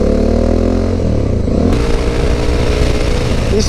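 A Bajaj Dominar 400 motorcycle engine runs loud and close with a steady rumbling idle, then its tone shifts into a rougher, rising rev about halfway through before dropping back near the end.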